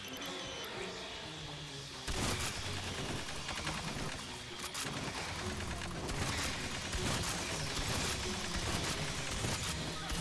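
Gunfire in the sci-fi shooter Aliens: Fireteam Elite, with shotgun blasts mixed into a dense, continuous barrage of shots and explosions, loud and close throughout with no talking.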